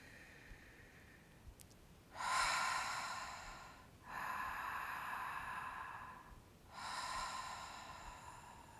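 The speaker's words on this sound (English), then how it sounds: "we'll start our Ujjayi breath. That victorious breath that is a slight constriction of the back of the throat" Ujjayi yoga breathing with a slight constriction at the back of the throat, heard as three long, hissing, oceanic breaths, each lasting about two seconds with short pauses between, close and fairly soft.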